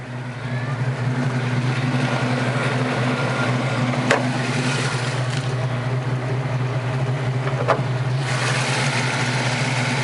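A 1986 Ford Mustang GT convertible idles with a steady, even engine hum throughout, close and unchanging, broken only by a couple of faint clicks.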